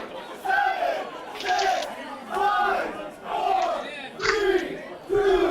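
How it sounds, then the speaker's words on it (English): A pro wrestling crowd at a live Midwest show chants a countdown in unison, five loud rhythmic shouted counts spaced about a second apart, echoing through the venue. "Crowd creating their own countdown for some reason here."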